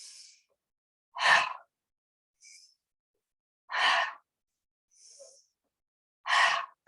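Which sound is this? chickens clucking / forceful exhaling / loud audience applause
forceful exhaling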